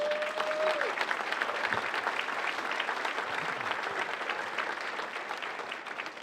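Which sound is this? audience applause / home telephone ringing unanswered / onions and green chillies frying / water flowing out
audience applause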